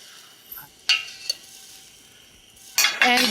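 Beef short ribs sear in a pan for a beer braise as a utensil turns them, with a few sharp metallic clinks and scrapes over a quiet background, then a louder burst of sizzling at the end.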